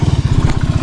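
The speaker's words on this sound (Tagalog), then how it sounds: "ito pa lang bago nating motor guys, ang FKM Express 500 SC" FKM Express 500 SC motorcycle engine idling close by, a rapid, even low putter of firing pulses over a very short moment.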